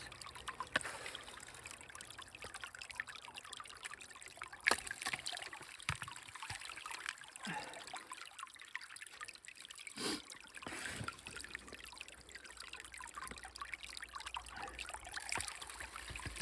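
Water trickles steadily through a gold sluice with 1/2-inch classification and big cells on a weak winter flow in Oregon, a soft continuous wash with occasional louder splashes and no voices.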